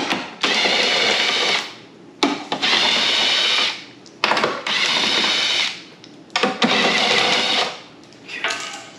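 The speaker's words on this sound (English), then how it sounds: "I'm going to use the ratchet for that though. Because these are long." A ratchet working long bolts loose on a Tesla Model 3 rear bumper, four loud sustained whirring bursts of roughly a second and a half each, separated by short pauses, close by with no speech.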